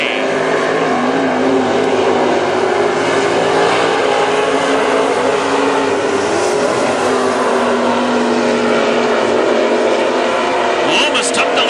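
WISSOTA Super Stock race cars roar around Princeton Speedway in a dense, continuous engine drone, loud and steady, under an announcer's running commentary.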